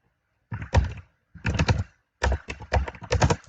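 Computer keyboard typing Java code, heard as three close clusters of rapid, clattering keystrokes separated by short pauses, with no talk.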